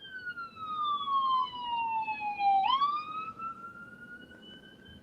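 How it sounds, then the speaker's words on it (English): A siren wails steadily, sliding down in pitch and then rising again, moderately distant, with no one talking. "Who's got the sirens going?"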